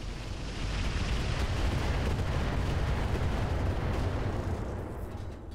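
Heavy mech weapons firing in the Roguetech battle game, a dense, continuous roar of booming blasts and rumbling explosions, loud and sustained for several seconds with no talk.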